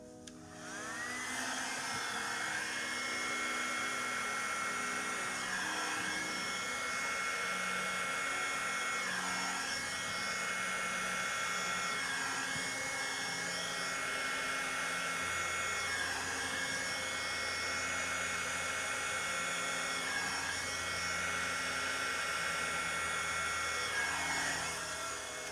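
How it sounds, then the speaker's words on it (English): A flower-shaped hair dryer with an attachment blows on its low setting, a steady whirring motor hum and rushing air that runs unbroken and fairly loud, with faint wavering in pitch and no talking. "I will use my flower hair dryer with attachment on low."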